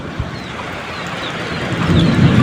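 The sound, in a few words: thunder during heavy rain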